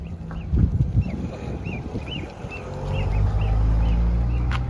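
A broody goose with her goslings: a string of small, high peeps repeats over a low rumble of passing vehicle and outdoor noise.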